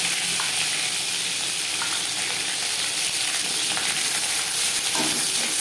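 Dried red chilli pieces frying in hot oil for a tempering, with garlic about to go in; a steady, close sizzle and crackle with faint stirring and no talk.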